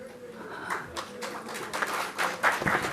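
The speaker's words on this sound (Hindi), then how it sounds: "एक बार जोरदार तालियां बजा दें आप" An audience at a cultural honors ceremony breaks into applause, a dense, moderately quiet wash of clapping that swells in bursts and grows louder toward the end, with some voices mixed in.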